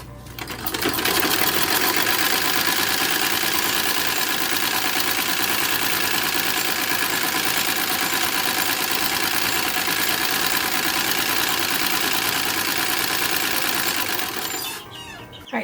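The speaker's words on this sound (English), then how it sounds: "lining is getting sewn into the backpack." Sewing machine stitching lining into a 1904-style traveling backpack, a continuous fast mechanical whir that runs loud and steady for about fourteen seconds before stopping.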